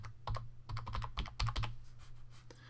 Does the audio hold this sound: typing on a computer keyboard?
yes